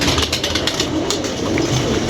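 A pigeon coos close by in a short, soft run of low, rolling calls against a steady background hiss.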